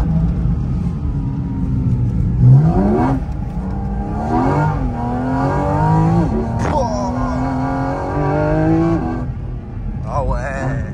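A drifting car's engine revs hard and surges through repeated accelerations, its pitch climbing and falling loudly and continuously, with people talking over it inside the cabin.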